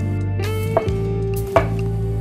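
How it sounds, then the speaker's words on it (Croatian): Brown button mushrooms are sliced with a knife on a board, two distinct crisp cuts spaced under a second apart over a steady, loud low hum. "Sada ćemo narezati smeđe šampinjone."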